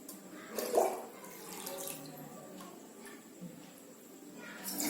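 Water pours from a small pot into a water bottle, a soft continuous trickle with a brief louder splash near the start, close and moderately quiet throughout.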